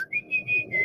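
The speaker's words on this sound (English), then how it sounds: "that sound is our confident driver whistling Beethoven's Fifth" A driver whistles a brief tune from Beethoven's Fifth, several distinct notes, clear and near, in a quick rhythmic pattern.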